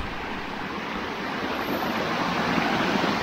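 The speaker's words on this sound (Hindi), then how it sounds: "तो हम चढ़ेंगे वाटरफॉल।" A waterfall on the Nakhind Ridge trek near Vangani, Maharashtra, produces a dense, continuous rushing roar of falling water that grows slightly louder toward the end, with no other sounds standing out.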